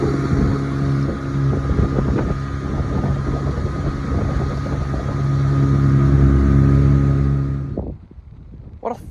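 Small Johnson 4 hp two-stroke outboard running on a Limbo 12 boat, a steady loud droning hum with wind buffeting that holds for most of the stretch, then drops off sharply near the end as the motor cuts out.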